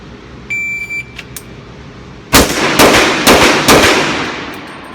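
Beeps from a shot timer, then four loud, sharp pistol shots from a Sig Sauer .357 fired in quick succession at close range, each with a brief ringing tail.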